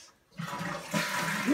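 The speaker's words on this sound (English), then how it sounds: "And check out the toilet." A residential toilet in a remodeled bathroom of a Huntsville, Alabama house flushes, with a sudden loud rush of water after a brief quiet start that keeps running steadily.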